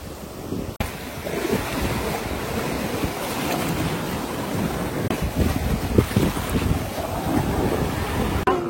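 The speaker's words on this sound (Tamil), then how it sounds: "கடலால அவ்வளவு ஃபோர்ஸா அடிக்குது." Sea waves crash and wash onto the long white-sand beach of Ko Samet Island, Thailand, a loud, continuous surf roar with strong wind buffeting the microphone and no talk.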